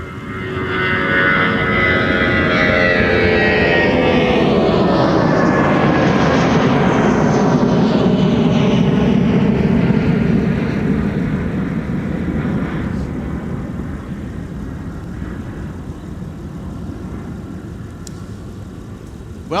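An aircraft passes at MSP airport, its engine roar loud and close at first with a sweeping pitch shift, then slowly fading as it moves away over about twenty seconds.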